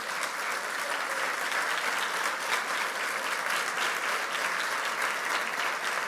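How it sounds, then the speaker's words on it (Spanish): A church congregation applauds during a sermon, a steady dense wash of clapping from many hands that holds at an even level throughout, with no speech over it. "¿Estás aplaudiendo por aplaudir o estás aplaudiendo porque te vas a comprometer?"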